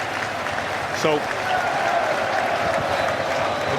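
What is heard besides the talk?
football stadium crowd noise at Wrexham v Charlton match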